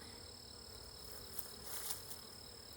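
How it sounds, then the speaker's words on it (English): Honeybees buzz around an open backyard hive during an inspection, a faint, steady hum close by with a few louder passes of single bees, and no voices. "All these bees are just beautiful too. Working good."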